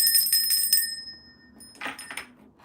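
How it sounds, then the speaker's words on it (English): A small bell rings out bright and clear with several quick strikes for a livestream donation, then fades, followed by a couple of soft knocks. "Oh, thank you for the donation. Let me give you a bell."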